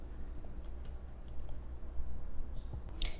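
Close computer keyboard typing while coding HTML, with quick, irregular soft key clicks and a few sharper taps over a low steady room hum.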